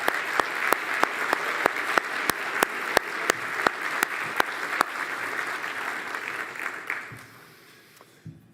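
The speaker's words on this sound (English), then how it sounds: "I'd like to give those past Top 10 scholars a round of applause." A room full of people at a scholars' awards ceremony at the Stueckle Sky Center applauds steadily, with a few sharp nearby claps standing out before the clapping fades away.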